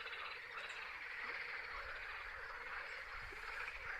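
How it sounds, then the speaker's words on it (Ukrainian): A dense chorus of frogs croaks continuously, a buzzing, rattling wall of calls heard outdoors at moderate volume, with no talking. "Тільки щось сильно жаби кричать."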